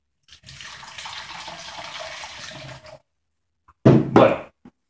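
Water poured into a homemade mosquito trap containing sugar and yeast, a steady splashing pour lasting a few seconds, then a brief louder gush after a pause, with no talk.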